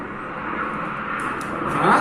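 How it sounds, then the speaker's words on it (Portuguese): A fixed-wing airplane passes overhead, its steady broadband engine drone swelling slightly louder toward the end of a short stretch, with no speech over it. "Passa, avião!"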